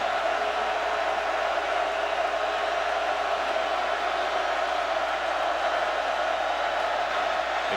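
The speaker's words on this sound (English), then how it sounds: "Crowd cranked up for 3rd and 9." A packed stadium crowd at a 2012 college football game between Georgia and Missouri roars steadily and loudly before a third-down play, a continuous wash of cheering with no breaks.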